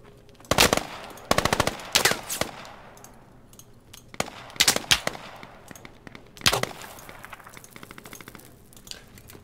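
Bursts of automatic rifle fire ring out in the tactical shooter Squad, short rapid strings of loud shots repeating in several clusters with gaps of quieter ambience between them.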